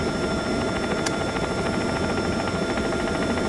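Police helicopter in X-Plane 12 flying over a town at night, a steady dense rotor and turbine drone with faint rhythmic blade pulsing, constant and loud throughout with no voices.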